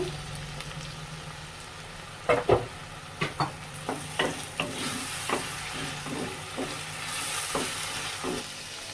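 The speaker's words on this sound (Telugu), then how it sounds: "ఇంకా కొంచెం ఆనియన్స్ అయితే వేగేయండి టమాటా ముక్కలు కూడా అయితే వేసేసుకొని ఫ్రై చేసుకుంటాను" Onions and tomatoes fry in a clay pot with a steady sizzle, while a wooden ladle scrapes and knocks against the pot in a series of distinct stirring strokes, close by.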